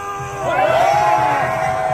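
A large crowd at an outdoor anti-impeachment political rally roars in a sustained wave of shouts and whoops, rising sharply after a brief lull and staying loud and dense to the end.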